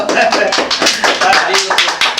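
A group of people claps together, a dense burst of hand claps running steadily through the short moment and fairly close, with no speech over it.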